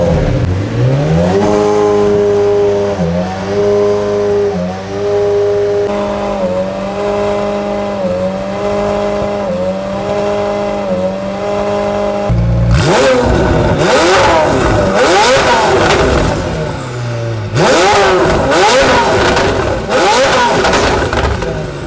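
A McLaren 720S, back on the road after being totaled and repaired, revs through rising gear pulls, then lets out loud, aggressive bursts of acceleration, close and dominant.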